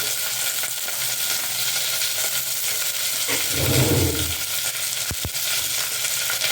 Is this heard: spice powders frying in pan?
yes